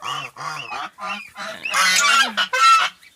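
Geese honk loudly and close by, a string of short calls building into harsh, overlapping honking from several birds.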